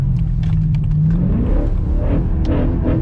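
BMW E92 M3 V8 with an Eventuri carbon intake plenum, a close, loud engine rumble that rises in a quick throttle blip and settles back toward idle.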